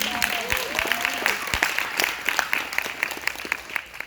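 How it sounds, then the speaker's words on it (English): Audience applause at a book launch event, a steady wash of many hands clapping with scattered sharper claps, while a voice speaks briefly over the start. "Give her a hand clap."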